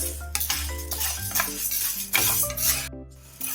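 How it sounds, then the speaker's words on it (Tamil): Urad dal being stirred and roasted in a pan, with continuous scraping and rubbing of a spatula against metal, irregular clinks and rasps, close and fairly loud, no talk. "இதே மாதிரி நீங்க கைவிடாம இந்த மாதிரி திருப்பி திருப்பி விட்டு கிளறிட்டே இருந்தாதான் அது ஈவனா வறுபட்டு வரும்."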